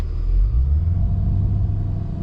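A 668 hp Cadillac CT5-V Blackwing holding steady revs in launch control, a loud, deep, continuous engine rumble with no speech over it.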